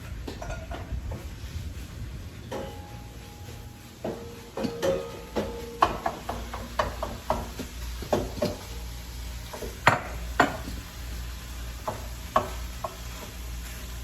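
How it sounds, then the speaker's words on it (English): A mix and chop utensil scraping and clacking against a pan as it breaks up ground beef, irregular close clicks and taps growing busier after a few seconds, with no talking. "I'm gonna have Johnny show you how the mix and chop works"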